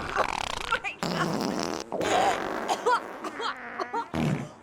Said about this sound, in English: Eat my fart, bitch.